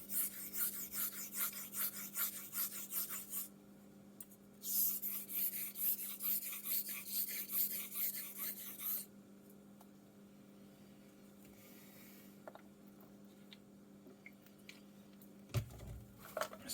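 A Quick Filly 13 bevel is honed with steady back-and-forth rubbing strokes on a stone, quite faint and close, running rhythmically for several seconds before a pause and fading into quiet room noise.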